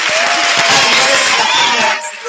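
Clapping from a school audience greets a prize winner at a student talent show, a dense, steady wash of hands filling the space for about two seconds before easing off.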